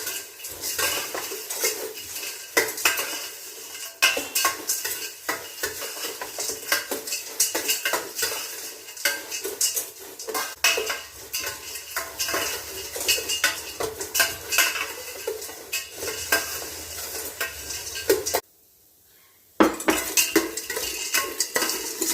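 Steady scraping and clinking of a spoon against a pan as ada rice flakes are stirred while roasting in ghee, continuous and close with a brief pause near the end, no voices.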